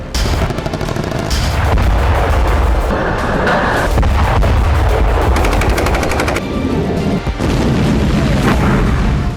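Battlefield sound effect of gunfire, mortars and rockets: loud, dense bursts of automatic fire mixed with heavy booms and blasts, continuous and close.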